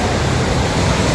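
Niagara Falls pouring over its brink, heard up close as a loud, steady broadband roar of rushing water with no break across the moment.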